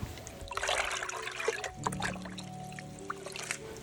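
Liquid seaweed fertilizer mixed in water is poured onto a potted geranium, giving a steady close trickle and splash that runs for about four seconds with no voices.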